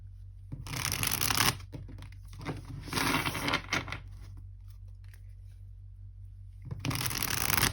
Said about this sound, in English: I'm shuffling over here because there is nudity in this deck